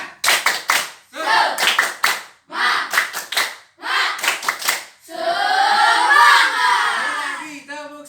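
A school class performs a rhythmic clapping cheer in several short patterned bursts with children shouting along, closing in a longer loud group cheer.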